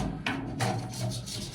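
Spray foam insulation on a narrowboat being trimmed back, soft close rasping and scraping strokes repeated a few times at low volume.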